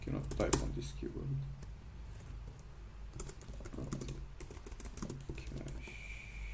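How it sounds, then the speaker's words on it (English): Fast clattery keystrokes on a computer keyboard in a room, coming in bursts throughout, with a voice talking over the typing. "Cannot type on this keyboard."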